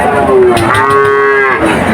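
A loud, close cow moo at a cattle and calf market in Betagi, one long drawn-out call with a rising then steady tone that dominates the scene.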